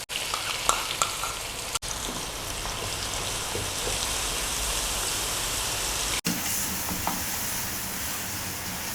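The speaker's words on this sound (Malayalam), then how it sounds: "അപ്പോൾ ഇനി ഈ അരപ്പ് നല്ലപോലെ മൂക്കട്ടെ" Ground masala paste sizzles and crackles steadily as it fries in a pan for a Malayalam-style fish curry, with a few sharp clanks of a spoon against the pan.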